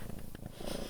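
A cat purrs close up in a short, steady, low rumble that stays soft and continuous throughout.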